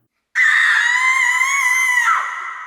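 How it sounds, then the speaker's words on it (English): A single long, loud blood-curdling scream from a woman rings out alone in a grimdark pony audio drama, starting abruptly, holding high and shrill, then cracking and fading at the end. "Then she heard a blood-curdling scream."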